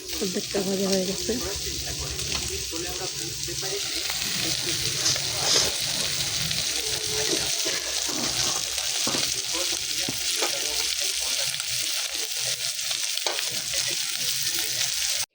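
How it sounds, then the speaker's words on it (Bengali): Food frying in a pan gives off a steady, close sizzle with stirring that runs the whole stretch, and a voice is briefly heard near the start. "অর্ধেকটা ভাজা হয়ে গেছে।"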